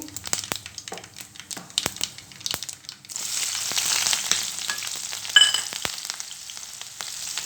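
Sharp crackles and pops at first, then a sudden burst of steady sizzling as tempering seeds hit hot oil, close and fairly loud.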